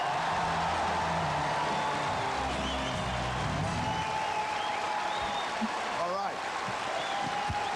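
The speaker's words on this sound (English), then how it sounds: "put your hands together and then apart and then together, because that'll make a clapping noise for Mr. Ben Elton" Applause from a live comedy audience in London welcoming comedian Ben Elton, a broad continuous wash of clapping and cheering, with music and tonal sounds running underneath it at the start.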